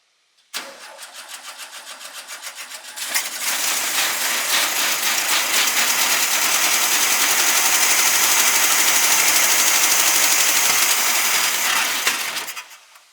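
An air-cooled SpraCoupe engine meant for a 1961 VW bus cranks with rapid ticking, then fires and settles into a loud, steady running roar nearby before cutting off.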